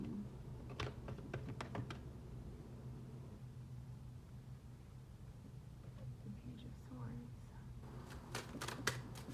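Tarot cards shuffled and laid down during a reading, giving a few light clustered card flicks early on and another quick run of snaps near the end, faint over a low steady room hum.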